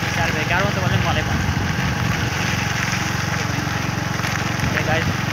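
A small scooter's engine runs steadily at low speed on a village outing, a constant close mechanical drone throughout, with people talking over it.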